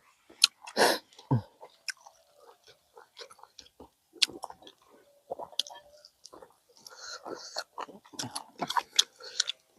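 Crispy pork rind being chewed with rice noodles in fermented fish sauce, producing close, wet crunching and mouth clicks in irregular bursts, with brief spoken remarks between bites.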